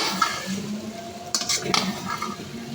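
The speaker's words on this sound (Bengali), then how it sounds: "এখন মশলার সাথে কচুমুখিগুলি ভালো করে মাখাঝাকা করে নেব" Taro roots (kochu mukhi) are mixed and stirred with spices in hot oil in a pan for a hilsa curry, with a steady close scrape and clatter of the spoon against the pan and a louder burst of clinking midway.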